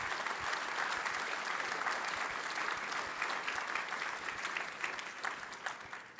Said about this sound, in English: How about a round of applause for this very special panel?